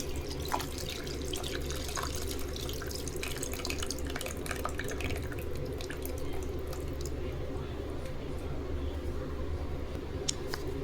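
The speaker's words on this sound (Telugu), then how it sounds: "ఇప్పుడు పులుసు పోసుకోవాలి." Tamarind juice poured into a pan of fish curry, a steady, close liquid pouring and trickling sound lasting throughout with faint splashes.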